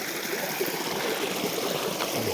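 A rushing mountain stream near Buscalan Falls flows steadily, a broad continuous wash of water close by and fairly loud, with no voices over it.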